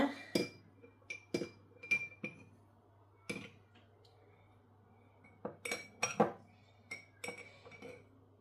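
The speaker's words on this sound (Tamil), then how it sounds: "ஒரு கரண்டி எடுத்து இதை நல்லா மிக்ஸ் பண்ணிக்கிடுங்க" A spoon clinks repeatedly against the inside of a cup of hot water while stirring, producing sharp, close metallic taps in irregular bursts with quiet gaps between them.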